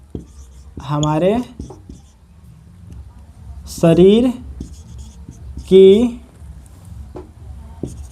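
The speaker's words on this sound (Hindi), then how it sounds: "अब देखिए कैसे लिखेंगे" Writing on a board during a class lesson on cells comes through as soft scratchy strokes at close range, with a teacher's voice speaking in short bursts over it.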